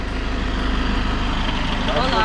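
A tour bus pulls up in the Dominican Republic, its engine idling steadily and loudly up close, with a low continuous rumble and a faint voice speaking over it.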